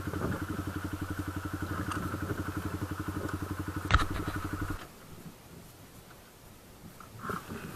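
Honda CB125F motorbike engine running with a steady pulsing throb and a sharp click near the middle as a gear shifts, then the engine note drops away to a quieter, softer idle.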